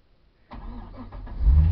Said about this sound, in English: So I'll start the car just so it doesn't go flat or anything, just in case.